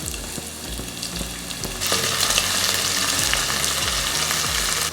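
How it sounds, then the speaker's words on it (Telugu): Sliced onion hits hot oil with whole garam masala, a loud, steady sizzle that jumps louder partway through as the pieces land, with scraping stirs underneath and no talking. "దాంట్లో 1 ఉల్లిపాయ ముక్కలు చేసుకొని వేసుకోవాలి."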